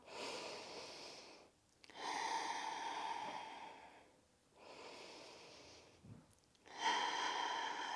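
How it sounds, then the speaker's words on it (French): Deep, slow breaths during a yoga exercise, several long airy inhales and exhales with short pauses between, close and fairly quiet, no talking. "On respire profondément ici. 3 respirations profondes."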